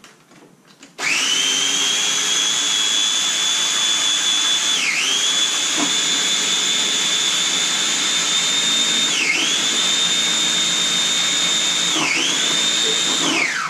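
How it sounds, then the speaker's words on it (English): A blender whirs loudly and steadily while mixing a chlorophyll drink, its motor whine holding a high pitch with a few brief dips as the load shifts, starting abruptly after a moment of quiet. "Just going to blend it up very quickly."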